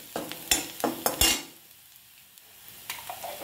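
Finely chopped garlic and urad dal frying in oil in a pan: a few sharp spoon scrapes and clinks give way to a soft, quiet sizzle.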